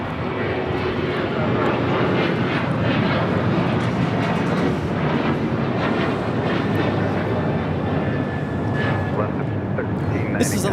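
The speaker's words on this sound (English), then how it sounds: "This is Alaska 1390 taking off to San Jose, Costa Rica on a 737-800." An Alaska Airlines Boeing 737-800 taking off from LAX: a loud, steady jet engine roar with broadband rumble lasting throughout, heard from nearby on the airfield, with a voice talking over it.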